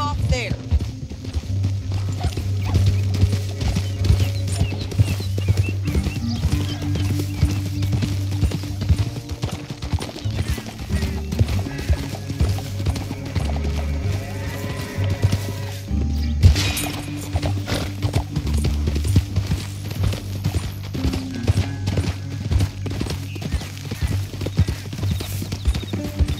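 Steady clip-clop of horse hooves trotting in the video game Red Dead Redemption 2, over a continuous musical score, with occasional voices and a brief horse whinny in the mix.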